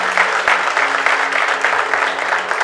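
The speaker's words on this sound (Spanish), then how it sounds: "Dale un fuerte aplauso al Señor." Congregation clapping loudly during a church service, a full, continuous burst of many hands applauding together, close and steady for a few seconds, with no one speaking.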